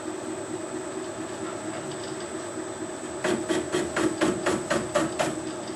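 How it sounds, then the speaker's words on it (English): A metal lathe is started up in a machine shop, a steady hum at first, then a run of rapid, evenly spaced metallic clacks from about the middle onward, close and fairly loud. "Right, we'll set the lathe away."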